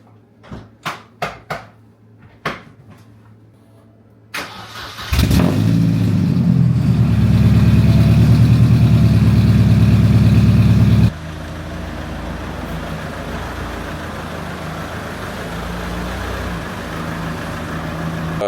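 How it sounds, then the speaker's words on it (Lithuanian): A Mazda car with a dead battery starts on a booster in the cold, its engine catching after a few short cranking bursts and then settling into a loud, steady idle up close that drops to a lower hum. "su boosteriu važiuosim ir su cold startu išvažiuosim"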